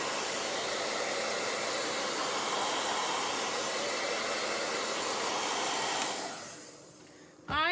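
A hair dryer blows steadily at close range to dry chalk paste on a holiday tree craft project, a loud constant whoosh that winds down near the end before a brief restart.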